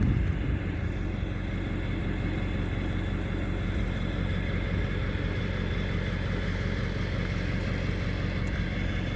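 The diesel engine of a loaded Jeep Sahara drones steadily at close range, a constant low rumble with no breaks and no voices.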